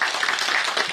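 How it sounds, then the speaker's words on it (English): Audience applause for Tedrevsky during a motivational talk at an interview-preparation event, a steady, dense patter of many hands for about a second with no talking. "So let's clap for Tedrevsky first."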